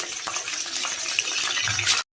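Dried red chillies stirred in hot oil in a pan give a steady, close crackling sizzle with scraping stirs throughout, cutting off abruptly at the end.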